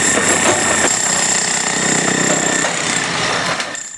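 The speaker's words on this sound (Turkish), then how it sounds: "Ekipler ilk olarak sokaktaki deforme olmuş ve esnaf için sıkıntılara yol açan parke taşlarının söküm işlemine başladı." Road crew tearing up deformed paving stones on a street, with a loud steady machine rumble and repeated rapid hammering of a breaker throughout, dropping slightly at the very end.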